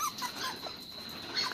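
Two newly arrived puppies, one male and one female, make faint, high squeaky whimpers and small yips scattered over a quiet, noisy room background.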